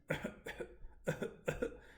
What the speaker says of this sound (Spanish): apretar con su garganta como si quisiera toser y multiplicar el sonido ha